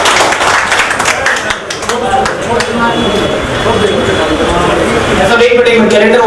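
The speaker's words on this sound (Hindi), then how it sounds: "सर जोरदार तालियां" Clapping from a crowd at the All India Lohar Trust 2022 calendar inauguration at Rajasthan Aushadhalaya, loud and dense throughout, with voices and chatter mixed in.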